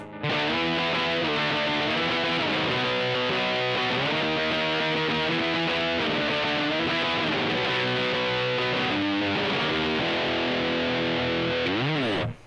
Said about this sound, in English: I need a really heavy thick distortion riff